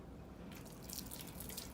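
A tap runs while hands are rinsed after scrubbing with soap, a faint, steady splashing hiss of water that starts after a brief moment of near silence.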